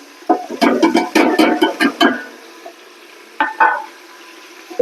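Chillies and tomatoes frying in a pan, a loud sizzle broken by bursts of stirring scrapes and clatter, then a quieter simmer before another stir near the end.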